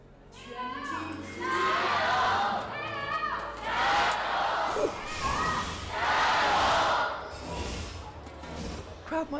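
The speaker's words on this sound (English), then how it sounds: "crowd mics are definitely on this time." A large esports arena crowd at a League of Legends LPL match roars and cheers in repeated loud waves, heard under the commentators' voices.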